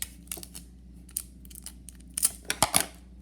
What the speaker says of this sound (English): we'll grab a huge piece of tape and cut a decent amount of it